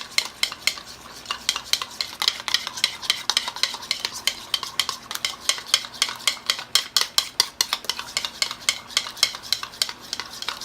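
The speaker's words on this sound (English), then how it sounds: "And then you want to stir all the lumps." A spoon scrapes and stirs a lumpy lunch meat wrap mixture with vinegar and Tabasco in a bowl, giving quick, steady clicking strokes close up for several seconds with no voices.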